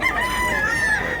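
A bull stag rooster in Cebu lets out a single loud, close crow, one brief drawn-out call with no talk over it.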